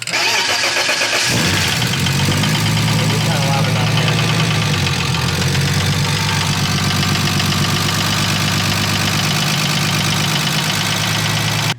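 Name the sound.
BMW E36 rebuilt engine running at first start-up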